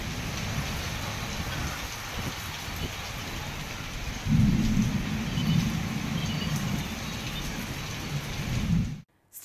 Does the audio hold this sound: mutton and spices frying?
no